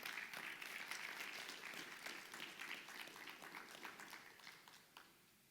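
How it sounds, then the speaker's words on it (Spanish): Church congregation applauding during a Spanish-language worship service, steady broadband clapping from many hands that holds for several seconds and then gradually thins and fades out. "Dale un aplauso al Señor."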